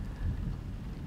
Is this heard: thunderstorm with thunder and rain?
yes